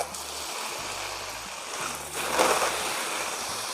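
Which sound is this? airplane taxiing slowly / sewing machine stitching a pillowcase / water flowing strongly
water flowing strongly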